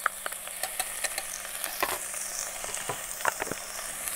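Ginger garlic paste sizzling in a pan while paneer pulao cooks at a jungle campsite, a soft steady hiss broken by scattered pops and crackles, with no voices.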